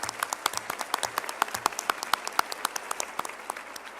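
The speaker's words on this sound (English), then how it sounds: "I'm going to ask the panel to give all you an applause" Panel and audience at an educational symposium applauding, a thin scattering of distinct claps from a small group with clearly separate sharp hand strikes.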